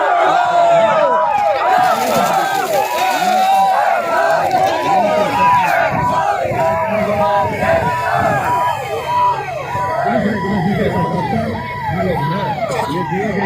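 An agitated riot crowd during a police riot-control drill, dense overlapping shouts and yells carrying on continuously and loudly with no pause, chaotic and close.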